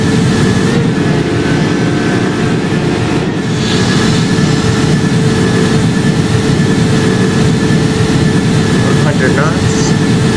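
Airbus A330 jet engines at takeoff thrust in an Air Serbia flight simulation game, a loud, steady broadband roar holding throughout with faint speech over it.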